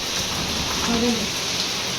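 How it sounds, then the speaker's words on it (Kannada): Steady rain falls outside a large open window of a new house, a dense, even hiss with no pauses, close and moderately loud throughout. "ಈಗ ನೋಡ್ರಿ ಮಳೆ ಬರಾಕತ್ತೆ"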